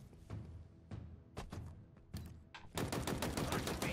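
Automatic weapon fire from Halo Infinite, a high-recoil gun chewing through ammo: several short bursts of shots, then a sustained loud stream of rapid fire near the end.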